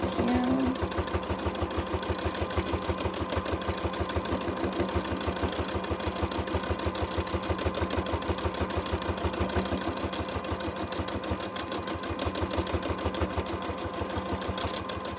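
Domestic sewing machine stitching steadily during free motion quilting, a fast even mechanical chatter that runs loud and close for the whole stretch with no pauses and no voices.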